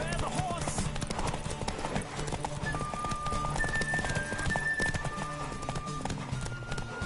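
A galloping horse in The Witcher pounds out a fast, even clip-clop of hooves up close, running steadily beneath game music while a voice speaks over it.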